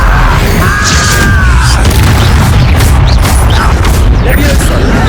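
Spell blasts in Hogwarts Legacy, a dense roaring wash of booming explosion and crackling fire effects filling the whole moment at high volume, with a few whooshing and ringing magical streaks over it.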